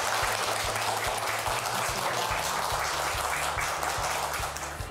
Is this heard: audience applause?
yes